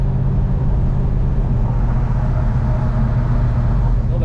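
A 1979 El Camino drives along with a steady, loud low engine rumble and road noise, continuous and close from inside the car.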